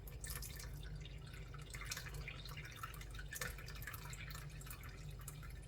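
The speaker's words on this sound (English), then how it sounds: "So we're just going to go super slow and we're going to pour this in." Redbud jelly liquid pouring slowly and dripping during home canning, a soft continuous trickle with small drips that stays steady and fairly quiet throughout, with no voices.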